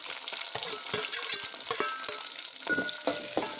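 Bottle gourd curry frying in oil with mustard seeds, cumin, curry leaves and onion in a pan, a steady close sizzle with scattered crackles and stirring scrapes, no talking.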